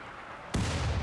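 A single sharp, booming cannon blast in the game RimWorld erupts suddenly after a quiet low hum, its heavy rumble lingering briefly afterward.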